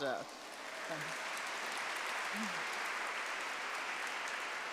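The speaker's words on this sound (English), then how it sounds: "we can all applaud" A university lecture audience applauds steadily, a dense even wash of clapping that holds for several seconds. A speaking voice is briefly heard at the start.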